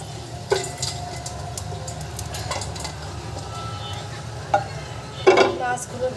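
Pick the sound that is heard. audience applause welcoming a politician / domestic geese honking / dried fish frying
dried fish frying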